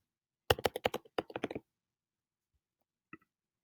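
Rapid keystrokes patter on a computer keyboard for about a second, then silence and one faint, isolated click.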